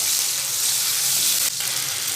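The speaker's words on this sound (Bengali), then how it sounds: "ভালো করে আমি ফোড়নটাকে ভেজে নেব।" Spices tempering in hot oil with chopped tomato and salt fry in a steady, loud, dense sizzle, with a brief stir or shift near the end and no talking.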